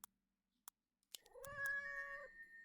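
A cat unit in the tower-defense game Legion TD 2 lets out a drawn-out synthetic meow after a few sharp clicks, clear and close with no talking.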